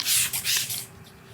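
A hand spray bottle mists water onto a car window while tint film is applied, giving a few quick hissing bursts close by that fade into quiet.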